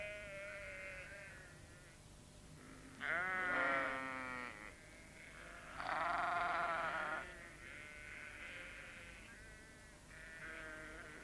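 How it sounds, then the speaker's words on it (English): Sheep bleat repeatedly, several loud wavering calls rising above a quieter background of more distant bleating, with no talk. "The sheep were glad to see them."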